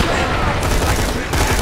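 Loud rapid gunfire in Borderlands 2, a dense burst of shots with two sharper cracks near the middle and end, close and continuous over the short stretch.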